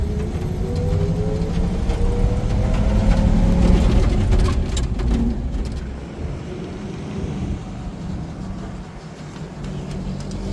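A 1951 Ford F1 truck rolls along on old tires, its engine rumbling low and loud with a rising note early on, then settling into a quieter, steadier drone as it carries on.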